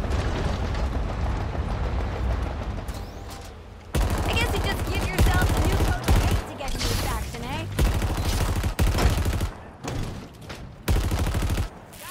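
A mounted turret fires in Halo Infinite, loud sustained rapid bursts of heavy automatic fire broken by short pauses, with explosions mixed in.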